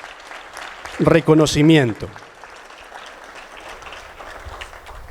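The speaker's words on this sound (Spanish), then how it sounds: "vamos a renovar el aplauso para las autoridades municipales" An audience at a municipal book presentation applauds under a voice speaking Spanish. The crowd clapping is a steady, moderate wash behind and after his words.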